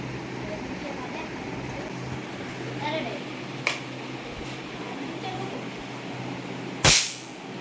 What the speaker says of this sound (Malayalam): ഇങ്ങനെ പടക്കം ഇട്ട് പൊട്ടിച്ചാൽ